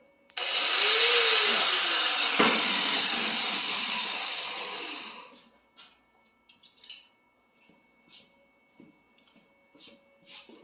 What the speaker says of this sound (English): So I'm going to go ahead and put a wheel on here. Flat disc. We're going to do some grinding.